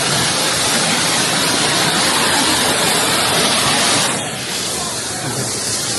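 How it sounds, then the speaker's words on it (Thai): A waterfall inside a cave roars continuously, a loud dense rush of falling water close by, with no other sounds standing out. "ข้างหลังก็เป็นน้ำตก"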